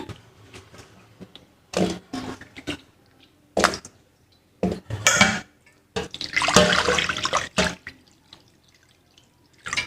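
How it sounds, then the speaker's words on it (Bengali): Taro and mung lentils being rinsed in water, with intermittent bursts of splashing and trickling, the longest stretch in the middle, between quiet pauses. "মানকচুটা আমি কেটে ধুয়ে নিছি"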